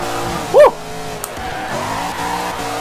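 A truck drifting in the Forza Horizon 2 racing game gives one short, sharp tire squeal near the start, rising over a steady engine drone that carries on to the end.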